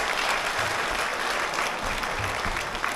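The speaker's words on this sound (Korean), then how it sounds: "모든 회원님들의 큰 박수 부탁드리겠습니다." Members of a provincial hometown association applaud as a hometown-love donation is handed to the Chungbuk governor, loud and continuous clapping from a full hall that stays steady for three seconds without voices.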